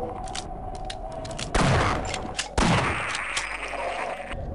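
Gunfire in the game Half-Life: a dense, steady rattle of shots runs throughout, with two louder blasts punching through near the middle, all close and without speech.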